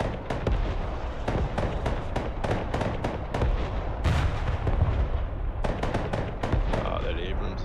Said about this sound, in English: Oh, they got a lot of artillery at the back.